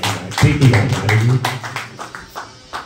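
Applause from an audience after a speech at a Gita Jayanti gathering, a short burst of dense clapping that swells near the start and thins out over a few seconds.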